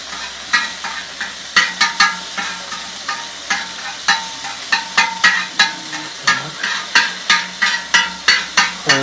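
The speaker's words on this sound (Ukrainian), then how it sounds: "Тепер перемішаємо це" A spoon stirring sugar into a thick mixture in a bowl, with steady rhythmic scraping and clinking strokes that grow more regular.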